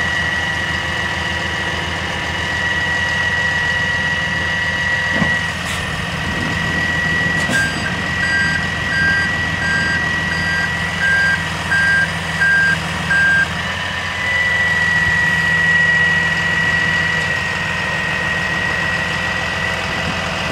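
A flatbed recovery truck rotating its bed on a steep pitch by a guardrail, with repeated electronic reversing beeps over a steady idling diesel engine, fairly close and continuous throughout.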